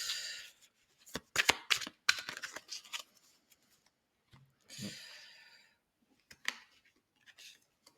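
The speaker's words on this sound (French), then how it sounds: "je continue de battre parce que j'aimerais quand même arriver à vous recouvrir votre jeu" A deck of tarot cards is shuffled up close in quick, crisp bursts of riffling and flicking, separated by short quiet gaps.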